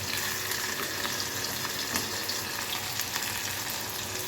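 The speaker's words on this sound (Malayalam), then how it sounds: "ചൂടായി അതിലേക്ക് നമ്മൾ സവാളയും പച്ചമുളകും അരിഞ്ഞ്" Sliced onions and green chilies fry in a hot pan, giving a steady, dense sizzle that stays close and even throughout.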